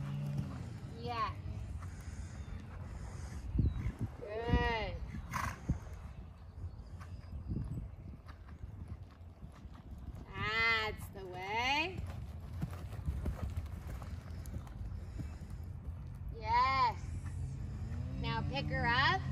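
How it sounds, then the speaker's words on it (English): Horse cantering in an arena riding lesson, a soft steady rhythm of hoofbeats running under an instructor's voice, which talks throughout with short bursts of coaching. "Keep riding the canter in your seat."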